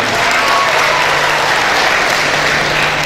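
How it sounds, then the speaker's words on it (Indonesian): Steady, dense applause from a debate audience at a 2015 public debate of Dumai mayoral and deputy mayoral candidates, filling the whole stretch loudly and evenly with no talk over it. "Tepuk tangan untuk beliau."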